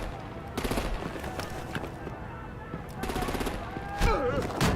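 Gunfire and artillery in the Batman The Enemy Within video game, bursts of rapid automatic fire and heavy blasts ringing out in clusters, with a voice speaking amid the shooting.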